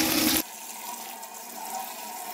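Tap water poured over cooked spaghetti in a kitchen sink: a loud, splashy gush lasts under half a second, then drops to a softer, steady trickle and drain hiss.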